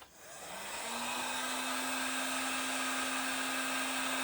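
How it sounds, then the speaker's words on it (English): A heat gun set on low for shrinking shrink wrap spins up in the first half second, then holds a steady, close, loud airy roar with a thin whine running through it. "I'm gonna start with my heat gun."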